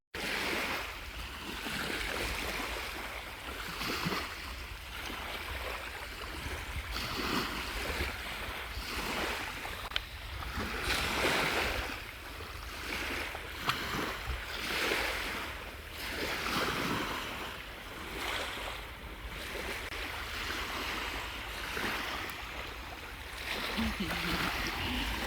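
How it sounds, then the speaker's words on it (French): Sea waves and moving water wash in a continuous rolling surge, rising and falling in soft swells with wind buffeting the microphone, while a voice talks faintly at times underneath. "Écoutez le bruit de l'eau."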